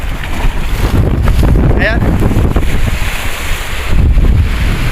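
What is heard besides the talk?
strong wind and ocean waves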